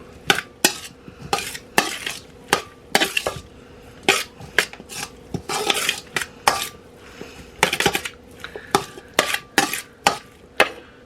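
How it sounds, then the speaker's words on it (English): Fried chicken ingredients mixed in a pan with a metal utensil, a steady run of sharp, close clanks and scrapes in uneven rhythm over a light sizzle. "after I give this a mix up"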